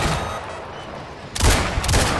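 Two shotgun blasts in the survival-horror video game Resident Evil Requiem, about half a second apart after a quiet ambient stretch, each a loud, close, boomy crack with a short decay.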